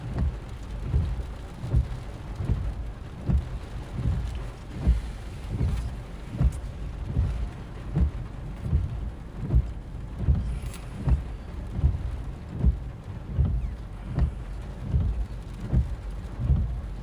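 A thunderstorm from a tornadic supercell near Fort Worth and Dallas brings steady rain. Low booming rumbles of thunder or heavy gusts pulse repeatedly and fairly evenly throughout, and no one speaks.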